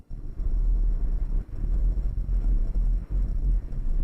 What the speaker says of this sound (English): Today, it's especially windy.